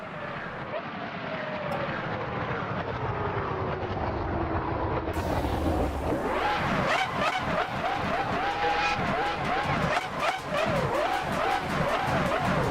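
Williams FW26 V10 Formula One car in a racing video game, its engine note loud and continuous throughout, rising and falling through rapid gear changes and revs in the second half, with no speech.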